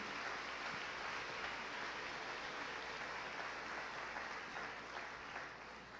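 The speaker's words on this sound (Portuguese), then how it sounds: "Você pode aplaudir o Senhor." A church congregation applauds, steady and sustained clapping at a moderate distance that carries evenly throughout.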